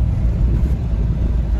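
A car being driven fast on the road toward Chiplun, a loud continuous low rumble of engine and road noise from inside the vehicle, steady throughout.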